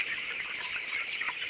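Broiler chickens about 22 days old cluck softly together in a farm shed, a continuous low murmur of bird calls with no talking.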